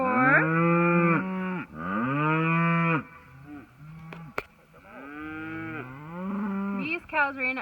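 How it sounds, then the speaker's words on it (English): Cattle on a farm, having run up from the back pasture, moo loudly and repeatedly nearby, long drawn-out lowing calls overlapping one another with brief pauses between. "These cows ran up from the back pasture."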